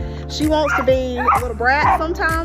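Several dogs bark and yip in quick bursts nearby, under someone talking steadily, with a whimpering tone between barks.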